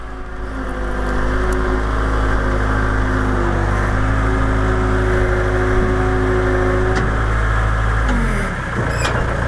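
A skid steer loader's diesel engine runs steadily nearby, a loud continuous idle with a droning hum that holds for most of the stretch before easing down near the end.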